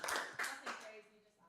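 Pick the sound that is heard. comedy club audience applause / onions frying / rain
comedy club audience applause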